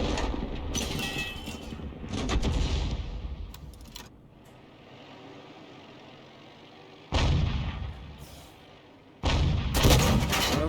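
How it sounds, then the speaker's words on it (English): Artillery shells from a tank battle game crash down close by in heavy booming bursts, a loud cluster at the start, a quieter rumbling lull, then two more sharp loud impacts near the end. "it sounds like rounds are landing nearby him"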